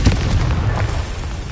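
A Confringo blasting-spell explosion in Hogwarts Legacy, heard as a short deep boom with a rumbling low tail fading over about a second, alone with no voices.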